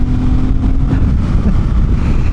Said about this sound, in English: you're welcomed with this really fun intake snort